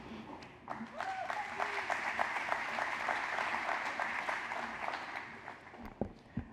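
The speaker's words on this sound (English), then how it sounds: "let's give Mayor Ulloa another round of applause" An audience at a city State of the City address breaks into sustained clapping that swells quickly and holds steady, with a few whoops and voices mixed in before it trails off.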